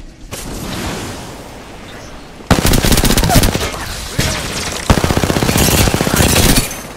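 Apex Legends gunfire: rapid automatic bursts crackling loud and close, a quieter stretch of distant shots, then several sharp heavy volleys in quick succession.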